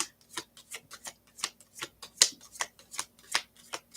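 Tarot cards are shuffled by hand as a quick run of crisp, papery riffles and taps, about a dozen distinct bursts in an uneven rhythm, close and clear, with no talk.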